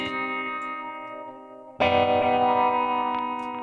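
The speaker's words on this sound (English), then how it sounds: "what a wah pedal is it's a resonant filter" Electric guitar run through a wah pedal acting as a resonant filter, sustained distorted chords ringing alone, then a louder fresh strum with a sharper, brighter tone that slowly decays.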